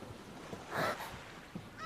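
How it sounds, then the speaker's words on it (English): A snow goose cries in a stage play, played as a theatre sound effect: a single loud honking call in the middle, with a fainter call near the end. "The cry of the goose brought Frith and Ryder running from the studio."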